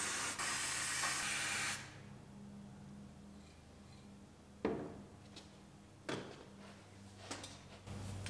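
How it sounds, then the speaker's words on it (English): Cavity wax sprayed into the bottom seam of a 2019 GMC Sierra Denali truck door: a steady, close aerosol hiss lasting under two seconds, followed by quieter handling knocks and clicks. "So we'll throw our cavity wax down in the bottom seam there"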